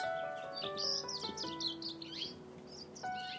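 Backyard songbirds in Santa Rosa chirping and trilling, several overlapping high calls with sustained whistled tones, fairly close and clear against a quiet outdoor background.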